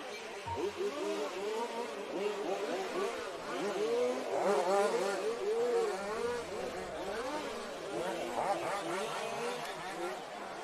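Large-scale off-road RC cars race around a track during warm-up, their small engines whining and rising and falling in overlapping buzzing sweeps as they pass near and far, with a voice talking over them.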